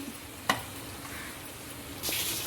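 Tomatoes, roasted brinjal pulp and garlic stirred into fried onions in a pan, a soft steady sizzle with a few sharp clinks and scrapes of the spoon, close and without talk.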